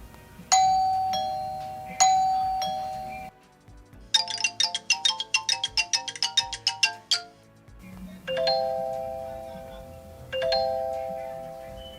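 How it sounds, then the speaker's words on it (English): Three different ringtones from an Imilab smart video doorbell play one after another: first a two-note chime repeated, then a fast bright run of tinkling notes, then another two-tone chime repeated. "You can change the ringtone of the doorbell and indoor hub independently, and they gave you 3 ringtones to choose from"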